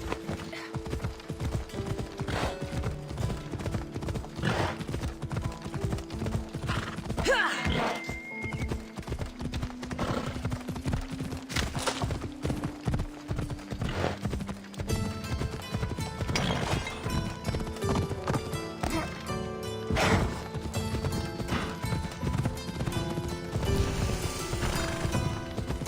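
Horse hooves clip-clop steadily in Assassin's Creed Odyssey as a mount is ridden toward Athens, a rhythmic trotting beat with occasional whinnies and mechanical clatter, no talking.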